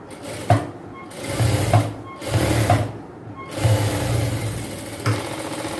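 A sewing machine stitches a seam on a palazzo pant in close, loud whirring bursts of about a second each, separated by short pauses.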